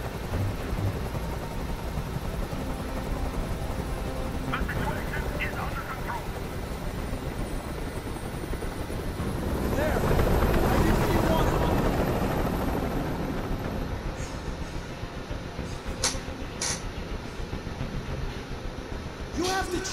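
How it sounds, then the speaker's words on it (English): A helicopter hovers in the video game Detroit: Become Human, a constant loud rotor drone that swells in the middle as if passing closer, with tense dialogue spoken over it. "I can't stand that noise anymore. Tell that helicopter to get out of here."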